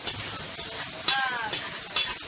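Onion frying in oil in a cooking pot as the base for a sea conch curry, a steady broadband sizzle with a few sharper scraping stirs near the pot, no talking.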